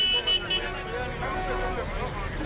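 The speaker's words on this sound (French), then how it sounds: "Des klaxons qui retentissent à chaque minute" Bus horns honk at a busy bus station, two short toots up front over a steady roar of idling engines, traffic and crowd babble.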